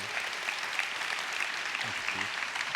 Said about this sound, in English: So everybody, I think Steve deserves a very good round of applause for his time this morning.